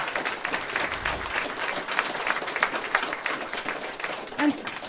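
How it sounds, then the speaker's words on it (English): A room of people applauds a speaker after an evening financial talk, giving a sustained, dense round of clapping that stays strong throughout, with some voices faintly under it. "let's give a big hand of applause for"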